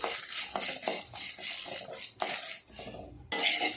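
Dried red chillies, Kashmiri chilli and spices dry-roast in a pan over a low flame, with a metal spoon scraping and clinking against the pan in quick, uneven strokes, close by.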